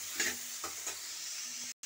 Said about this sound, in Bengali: আমি এখানে তেলাকুচির ডাঁটাগুলোকে এর মধ্যে আমি নেড়ে নিচ্ছি।